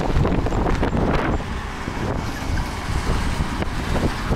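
Wind buffets a handheld microphone outdoors on a Turkish residential street, a steady, close, low roar that swells and eases slightly without a break.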